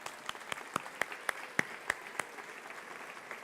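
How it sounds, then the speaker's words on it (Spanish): A church congregation claps for a group of preteens, heard as a short run of sparse, separate claps spaced roughly evenly and fairly faint, fading out after about two seconds. "denle un aplauso."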